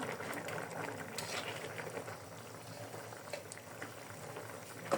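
Chicken curry gravy simmering down in a pot, a soft continuous bubbling and gentle liquid blipping, quiet and steady, with a faint clink at the very end.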